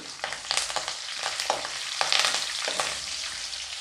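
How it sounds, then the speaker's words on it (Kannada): Mustard seeds, cumin, curry leaves and urad dal frying in hot oil for mullangi palya, a bright crackling sizzle with quick pops and spoon scrapes, close and steady with no voices. "ಹಾಗೆ ಸ್ವಲ್ಪ ಕರಿಬೇವು, ಉದ್ದಿನಬೇಳೆ ಸ್ವಲ್ಪ ಫ್ರೈ ಮಾಡ್ಕೊಳ್ಳಿ"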